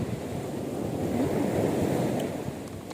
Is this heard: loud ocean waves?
yes